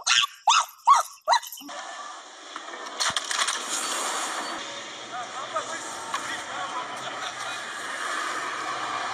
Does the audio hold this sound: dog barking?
yes